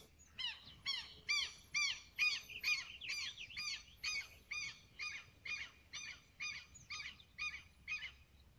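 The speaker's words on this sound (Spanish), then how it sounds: "y el sonido de los pájaros." A bird calls over and over in a steady rhythm, a repeated honking chatter about once a second, close and clear against quiet.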